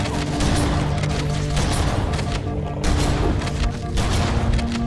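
Loud, dense gunfire in the Halo CE video game as shots are fired down a hallway: continuous overlapping blasts and impacts with no break for the whole stretch.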